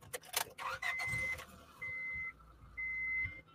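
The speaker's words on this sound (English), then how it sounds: "Walking to his new car, Eric turns the key." A car engine starting after the key is turned, beginning with a few clicks and a short crank, followed by a steady electronic chime that repeats in separate beeps.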